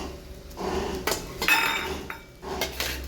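A metal spoon clatters and scrapes against a pan while green chillies and a small piece of ginger are sautéed, giving several sharp clinks and knocks over a faint background sizzle.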